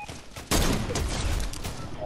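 Gunfire in Fortnite erupts suddenly as a loud, dense burst of overlapping shots that continues for over a second, close and harsh with rapid crackling reports, over quieter game ambience.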